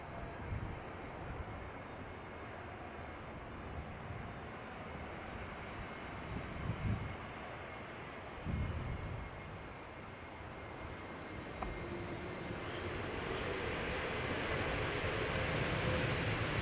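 Airbus A321neo jet airliner, about three years old, at Schiphol Airport, giving a steady broadband engine roar that holds throughout and swells louder toward the end as it draws nearer.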